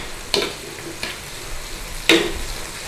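Shredded beef crisps in hot oil in a pan, giving a steady, close sizzle with a few sharp crackling bursts and scrapes of stirring.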